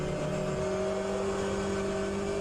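A simulated race car engine in the rFactor 2 endurance race at Spa hums with a steady, high-pitched drone and holds an even pitch and volume the whole time, with no talking.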